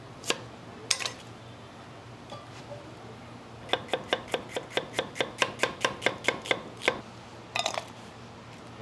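Onion is chopped with a knife on a cutting board, a few scattered strikes followed by a quick, even run of a dozen or so crisp taps, then a final short burst, close and clear over faint background noise.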